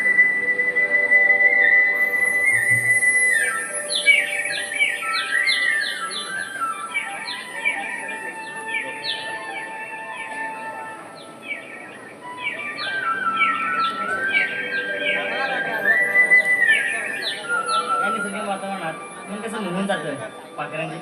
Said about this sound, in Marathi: पाखरांचे किलबिल